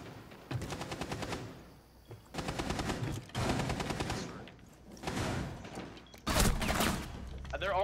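Automatic gunfire in the Rainbow Six Siege video game, several bursts of rapid shooting across the clip with a loud burst near the end, mixed with game sounds and voices.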